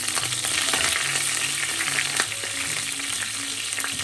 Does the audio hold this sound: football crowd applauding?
no